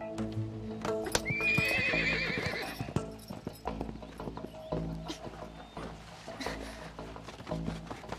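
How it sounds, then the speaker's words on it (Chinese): A horse neighs loudly with a rising, wavering whinny early on, followed by clip-clop hoofbeats and snorts amid a quieter outdoor scene. "快，里面有马叫声。"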